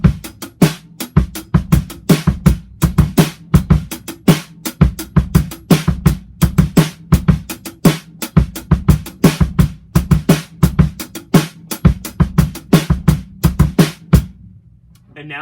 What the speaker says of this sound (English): if we add those extra hi-hats that you'll see on the PDF back into this beat